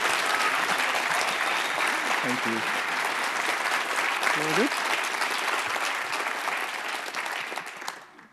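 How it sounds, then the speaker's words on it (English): Conference closing audience clapping steadily and fairly loud throughout, a dense sustained wash that fades at the very end, with a brief spoken voice over it. "You need more claps."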